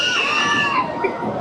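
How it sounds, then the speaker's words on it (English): Riders screaming on an amusement park ride at a Rehoboth beach boardwalk, a loud, sustained chorus of high-pitched shrieks from several people. "She's screaming already."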